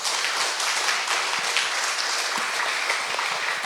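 Steady, dense audience applause fills a hall at an academic presentation, continuous and even from start to finish with no talk over it.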